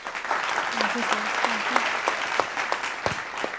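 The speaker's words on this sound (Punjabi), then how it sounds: "ਸਾਰੇ ਜਣੇ ਜ਼ੋਰਦਾਰ ਤਾੜੀਆਂ ਜ਼ਰੂਰ ਵਜਾਏ ਜੀ" An audience on a singing competition stage claps loudly and steadily throughout, with a voice talking faintly over the applause.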